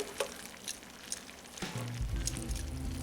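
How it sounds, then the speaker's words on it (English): Onions and mushrooms drop into a frying pan with steak medallions and start sizzling loudly, a crackling hiss that swells midway and holds steady to the end. "We're going to go ahead and add the onions and mushrooms back in"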